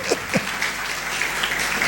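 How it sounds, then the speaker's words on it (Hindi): A church congregation applauds the fathers with a dense, steady roll of clapping that carries on without a break, with a faint voice underneath. "प्लीज इनके लिए तालियां बजा गए"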